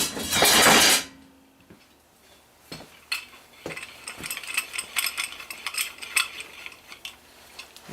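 A clamp is tightened to hold a mini excavator bucket: after a loud clattering burst at the start come quieter separate knocks, then a run of rapid metallic ratcheting clicks up close.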